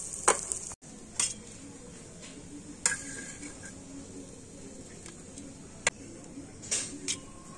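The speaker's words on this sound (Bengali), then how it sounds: "ম্যাগি মশলা দিয়ে একটু ভালো করে নাড়াচাড়া করে নামিয়ে নেব" Vegetables tossed with Maggi masala in a pan: quiet intermittent scrapes and clinks of a spoon against metal over a soft, steady sizzle.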